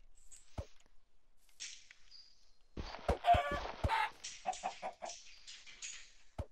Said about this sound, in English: Oh my god, the chicken can fly.